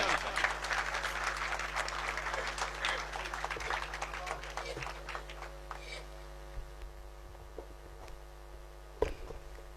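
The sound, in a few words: audience applause at a mushaira poetry gathering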